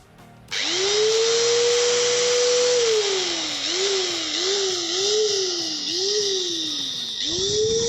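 Bosch GWS 600 angle grinder switched on and running with no load, a loud close motor whine that spins up, holds a steady pitch, then dips and recovers several times before winding back up.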